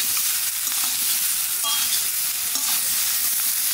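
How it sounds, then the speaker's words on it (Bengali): Spices with turmeric and salt sautéing in a pan make a loud, dense, unbroken sizzle, with faint stirring touches in the background and no talk. "হলুদ, মশলার সাথে সবই কষাই নিছি"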